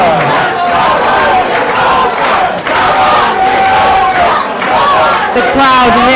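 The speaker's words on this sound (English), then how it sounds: "The crowd here at the stadium are cheering for Jib and their boys to bring it home." A stadium crowd at a Gibraltar versus Jamaica rugby match cheers and chants loudly and without a break, many voices roaring together in a dense, continuous wall of sound.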